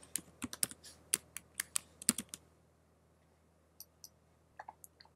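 Someone types a folder name on a computer keyboard: a quick burst of crisp key clicks, then a few sparse keystrokes, quiet and close, with no talking.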